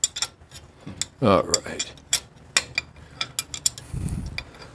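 Metallic clicks, ratcheting and clinks of a wrench working nuts loose during a Harley Knucklehead teardown, irregular bursts of close mechanical sound with a brief spoken remark.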